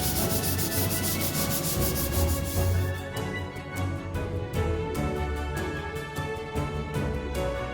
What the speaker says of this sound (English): I've gotten this plant box all sanded up.